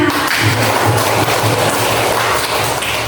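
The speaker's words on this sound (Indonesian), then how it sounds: "Oke, tepuk tangan" A classroom full of students applauds together, a dense, steady wash of clapping that holds at full loudness for about three seconds.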